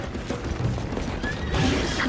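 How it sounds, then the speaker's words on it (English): Horse neighing in the video game Zelda: Tears of the Kingdom, a loud, close whinny that rises over dense game noise and battle sounds, with a brighter burst near the end. "The horse."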